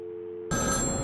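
Telephone ringing in Batman Arkham City, a sudden bright ring cutting in after a quiet hum, loud and close, heard alone.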